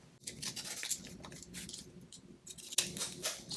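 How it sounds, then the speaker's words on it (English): Scallop-edged craft scissors snip through paper while making Christmas gift tags, a quick run of crisp close cuts with brief pauses between them. "Use my scallop scissors here."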